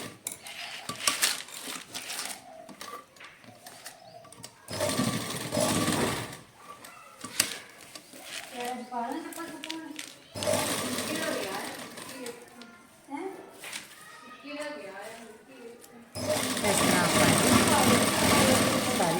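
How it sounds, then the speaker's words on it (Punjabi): A sewing machine stitches lace trim onto a chunni in bursts of fast mechanical whirring, broken by pauses in which a person talks quietly nearby. "ਇਸ ਤਰ੍ਹਾਂ ਕਰਕੇ ਇਹਨੂੰ ਵੀ ਆਪਾਂ ਪੱਕੀ ਸਿਲਾਈ ਕਰ ਲੈਂਦੇ"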